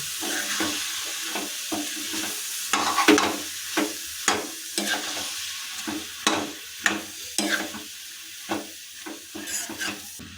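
Repeated scraping strokes of a spoon stirring thick egg tadka in a wok over a steady soft sizzle on low flame, close and rhythmic, with no voices.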